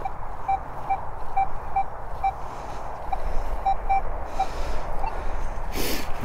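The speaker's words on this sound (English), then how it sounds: "It's a beep, beep, beep, but it sounds clipped at the ends." A metal detector in a field sounds over a buried iron target, giving a series of short, evenly spaced beeps that come out clipped, over steady wind and outdoor background noise.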